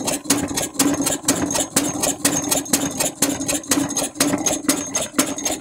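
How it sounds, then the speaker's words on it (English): A small Westbury Wyvern model open-crank engine buzzes steadily with a fast, regular rattling beat as it shakes loose of its clamps on a table, loud and close, alone without voices. "The noise is the engine rattling about on the table as the clamps are rattled loose."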